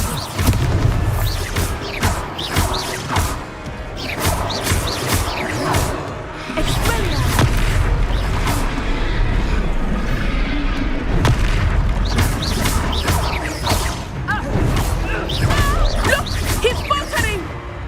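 A Descendo spell in the game Hogwarts Legacy sets off repeated heavy booms and slamming crashes with whooshing bursts, arriving in clustered waves of impacts over a rumbling battle background.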